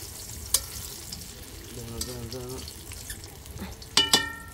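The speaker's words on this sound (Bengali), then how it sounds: "এই দেখেন আমার বেগুন ভাজি করা হয়ে যাচ্ছে" Eggplant slices fry in a pan with a low crackling sizzle under household sounds, while a short tonal voice-like hum and a couple of sharp clinks rise over it; nearby and moderately quiet.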